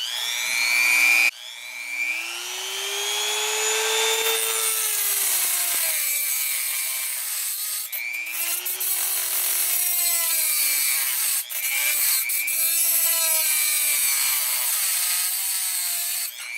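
A Dremel rotary tool with a cutting wheel grinds through metal in a loud, close, sustained whine whose pitch dips and rises as the wheel loads and frees up, broken by a few brief pauses.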